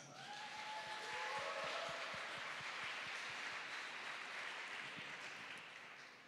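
A church congregation gives a big round of applause. The dense, steady clapping fills the room for several seconds and fades slightly at the end, with whistles rising over it near the start.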